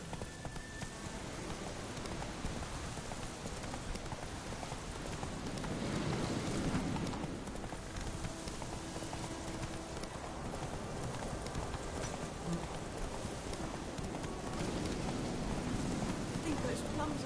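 Horse hooves clip-clop steadily through rain in The Witcher 3, the hoofbeats close and even over a constant hiss of rainfall, with a voice occasionally heard above them.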